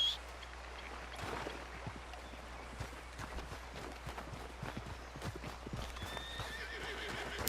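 A horse in Red Dead Redemption 2 clip-clops steadily at close range and gives a clear neigh, with hoofbeats repeating through the whole stretch over a low in-game ambient bed.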